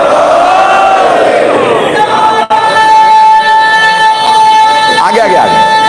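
A large religious gathering with the crowd shouting a slogan together in a loud, sustained collective roar, a single voice rising above it before the shout fades into murmur and scattered calls.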